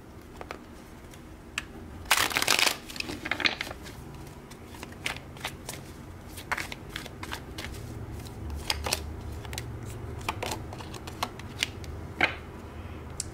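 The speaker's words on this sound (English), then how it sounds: "I'm gonna pull maybe a couple more cards." Tarot cards are shuffled in a short, loud riffling burst, then drawn and laid down with scattered soft clicks and slides nearby.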